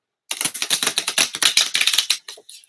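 A brand-new, stiff, sharp-edged tarot deck being shuffled hard, giving a loud rapid flurry of crisp card clicks and flutters for about two seconds before trailing off.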